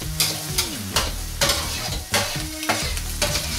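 Chopped vegetables sizzle in a paella pan over cuttlefish fond, a steady close fry broken by repeated scraping stirs of a utensil, with no voices.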